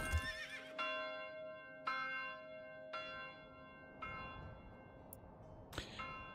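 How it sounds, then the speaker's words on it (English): Horses in the medieval city-building game Manor Lords whinny several times in a row, each neigh bright and sustained with a fading tail, alongside a church bell and faint hoof clops, with no voices. "Horses."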